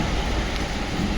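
Heavy rain pours during a stop on a motorcycle ride from Kolkata toward Gurudongmarg Lake, a dense, steady, loud hiss of downpour filling the short moment without any voices.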